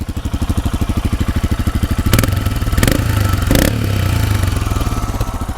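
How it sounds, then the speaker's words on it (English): A Royal Enfield Himalayan motorcycle exhaust burbles steadily at idle, close and loud, with a few quick throttle blips swelling the note before it settles back. "and that's the exhaust note."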